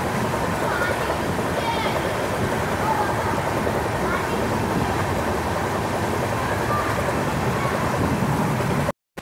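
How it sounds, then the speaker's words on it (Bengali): Shantiniketan Express pulling into platform 3 at Bolpur station after the run from Howrah, a loud, steady rumble and rattle of the train that carries on unbroken before cutting off abruptly. "আমাদের ট্রেন এখন এসে পৌঁছালো বোলপুর স্টেশনের 3 নম্বর প্ল্যাটফর্মে"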